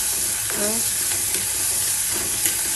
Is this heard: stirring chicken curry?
yes